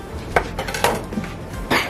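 Metal cooking pots and utensils clatter and clink in a kitchen while vegetables and meat are prepared for an Isan-style soup, several sharp knocks in close succession.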